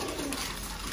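Pet pigeons give a soft, low coo, faint and brief, over a quiet steady background.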